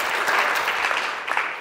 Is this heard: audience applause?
yes